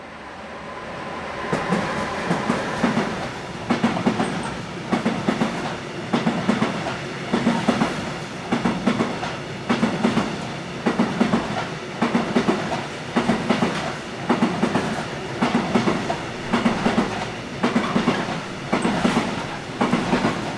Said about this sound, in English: A flurry of westbound freight also included this one, hauled by 185603 on train 99743 from Neuhof